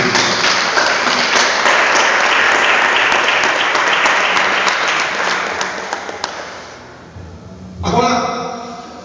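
A church congregation applauding loudly and steadily for about seven seconds, then tapering off into quieter room tone, with a voice beginning to speak near the end.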